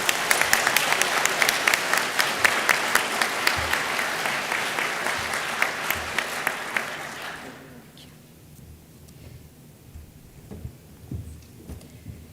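An Electrochemical Society plenary lecture audience claps loudly and densely for about seven seconds before the applause fades out into quiet room noise.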